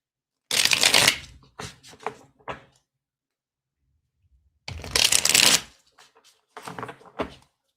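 Tarot cards are shuffled in two quick bursts of riffling, each followed by a few soft taps and flicks of the deck, close and clear in a quiet room.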